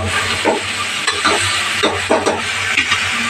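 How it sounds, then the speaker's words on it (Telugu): A spoon stirs bottle gourd fry curry in a hot pan, giving a soft continuous sizzle with a few loud, close scraping strokes in an irregular rhythm and no talking. "ఇట్లా కొంచెం కలుపుకోవాలి, లేకపోతే అడగంటుకుంటుంది."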